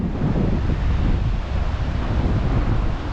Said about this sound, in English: They've got a bit of a surf going on here, a bit of a wave.